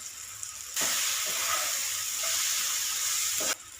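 Chicken frying in a pan with garam masala and chili powder, a loud steady sizzle that bursts in and holds for about three seconds before cutting off, no voices.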